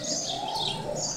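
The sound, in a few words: parrots calling outdoors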